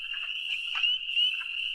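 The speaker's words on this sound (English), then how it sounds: "I hear a wood frog, though, beginning in there." Wood frog calling at a spring pond, a harsh grating croak that runs steadily through the whole stretch, fairly close and clear with brief swells in loudness and no voices.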